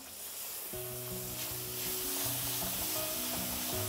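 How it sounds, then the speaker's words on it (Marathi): Fresh yogurt and biryani masala sautéing in a pan for egg biryani, a soft steady sizzle with light stirring, fairly quiet under background music with no talking. "आता एक थोडंसं आपण याला परतून घेऊया।"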